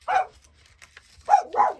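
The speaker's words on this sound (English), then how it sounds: "they won't stop barking because someone's coming to the door" A dog barks sharply once, then twice more in quick succession after a short pause, close by.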